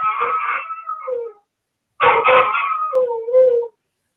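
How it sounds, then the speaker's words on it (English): A dog howls loudly and close by in two long drawn-out bursts with a short silent gap between them, the second ending in a falling whine. "I don't know what's happening with my dog."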